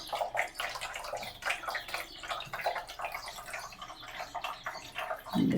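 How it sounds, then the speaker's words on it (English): A courtyard water fountain in a small desert-oasis garden trickles and splashes steadily at close range, a continuous watery patter with no voices. "and her water fountain."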